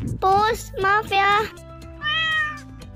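Cat meowing in the Sakura School Simulator mobile game, three quick meows followed by a longer drawn-out one, close and clear over a faint steady background tone.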